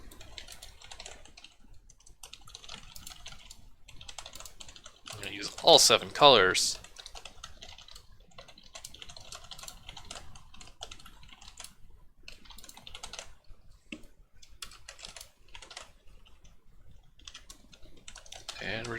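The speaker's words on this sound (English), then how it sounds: "I'm typing and thinking simultaneously" Computer keyboard typing while building a puzzle board in the ZZT game editor: scattered soft key clicks throughout, with a busier, louder burst in the middle, mixed with someone talking.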